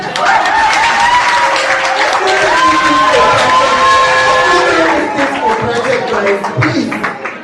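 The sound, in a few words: audience clapping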